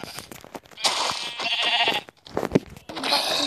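Several goat bleats from the video game Minecraft, wavering and nasal, come in short bursts of varying length with brief gaps between them, loud and close with no talk over them.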